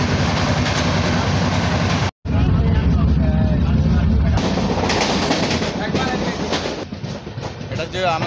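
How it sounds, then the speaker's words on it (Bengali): Samarsata Express train rolling into platform 3 at Durg Junction, a loud continuous rumble of wheels and carriages with rattling clatter, briefly cut off then resuming, with voices talking over it. "এটা যে আমাদের ট্রেনটা দুর্গ জংশন স্টেশনে 3 নম্বর প্ল্যাটফর্মে ঢুকলো।"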